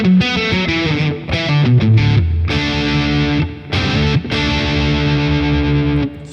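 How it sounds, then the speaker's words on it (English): An electric guitar played through a practice amp with a distortion pedal engaged, loud, saturated chords and sustained notes with short gaps between phrases, no voices. "now this is going to be a distortion pedal. So totally different sort of sound here."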